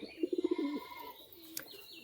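A restless, aggressive white female Madras-type pigeon gives a close, clear coo: a quick run of five short pulsed notes sliding into a longer drawn-out tone, followed by faint background chirps.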